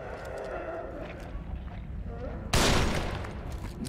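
A sniper rifle shot in the video game The Evil Within, one sudden loud, sharp crack that cuts in after a stretch of low rumbling ambience and rings out briefly as it fades.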